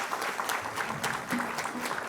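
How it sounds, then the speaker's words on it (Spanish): An audience applauds an expert panel at an asphalt and road development conference, steady clapping from a hall crowd that holds at even loudness throughout, with a faint voice underneath at moments. "Un aplauso a nuestro panel de lujo esta tarde."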